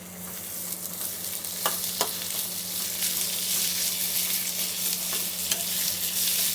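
Onions and tomatoes sizzle steadily in a hot pan while a spoon stirs, with a couple of scraping taps against the pan; continuous frying hiss, close up.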